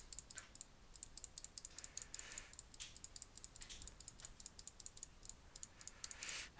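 A computer mouse is clicked rapidly and irregularly while objects are placed in a 3D modeling plugin; the small, faint, crisp clicks come close together with no speech.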